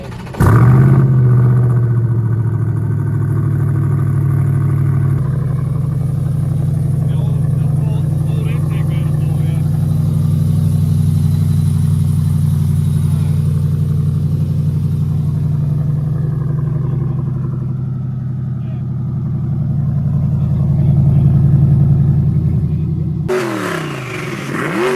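A twin-turbo Corvette C8 engine runs loud and close, holding a steady rev with a swell near the end before cutting off abruptly. Voices are heard briefly under the engine noise.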